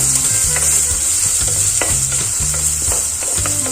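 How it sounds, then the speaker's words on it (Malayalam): Garlic and ginger sizzle loudly in hot oil in a pan while a spoon stirs them, with a steady hiss broken by repeated rhythmic scraping strokes, close up and with no talking. "ഒന്ന് ഇളക്കി കൊടുത്ത് ഇഞ്ചിയുടെയും വെളുത്തുള്ളിയുടെയൊക്കെ പച്ചമുളൊന്ന് മാറട്ടെ"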